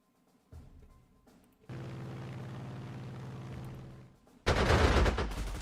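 Anti-aircraft guns fire at a plane in Panzer Corps II, set in the Spanish Civil War, with a burst of rapid rattling shots followed by a loud explosive blast at the end.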